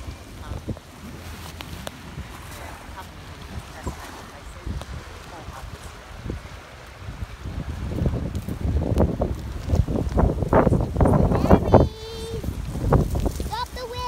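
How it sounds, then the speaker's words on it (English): Strong wind buffets the microphone on soft beach sand at an island, a rough continuous rumble that swells louder in the second half while voices are heard now and then. "Stop the wind!"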